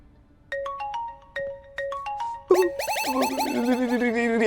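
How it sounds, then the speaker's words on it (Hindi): A mobile phone ringtone goes off indoors in a crime drama scene. A few sparse electronic beeps lead into a continuous bright melody that grows steadily louder, with no talking over it. "रिया का फोन। बात कर"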